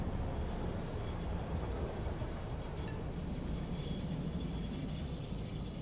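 A train runs along its track in the Satisfactory video game, a steady, dense rumbling roar with a faint rattle that holds constant throughout, with no voices over it.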